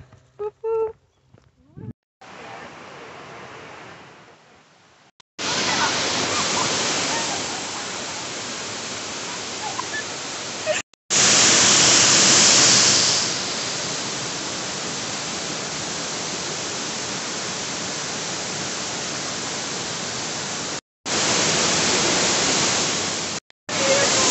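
Steady broadband roar of a waterfall reached on a hike in April, loud and continuous, broken by a few brief cuts, with faint voices early on.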